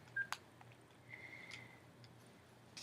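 Tones from a phone touchscreen pressed by accident, a couple of brief beeps near the start and a fainter tone about a second later, heard quietly against a low steady hum.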